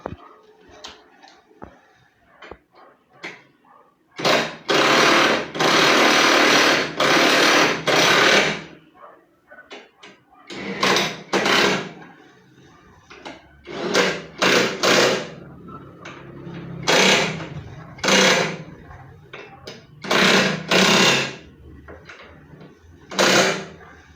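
Bolts on a Raven Version 5 bracket being tightened on a Honda Click scooter, with long bursts of loud ratcheting or power-tool whirring near the mic, first one sustained run, then several shorter spurts with gaps between.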